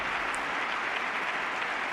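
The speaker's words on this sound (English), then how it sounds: "Just keep clapping." Lawmakers in Congress applaud during the 2014 State of the Union address, a steady wash of clapping from a large chamber, fairly distant and even throughout.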